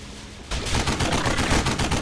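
Gunfire in the video game Xenonauts X-Division bursts in suddenly and continues as dense, rapid overlapping shots, loud and steady for the rest of the moment.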